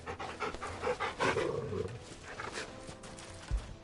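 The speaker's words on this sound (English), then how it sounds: "Can I pet that dog?" A dog in Final Fantasy XVI pants in quick, breathy bursts close by, with a louder huff near the start and a brief thump near the end, and no talking.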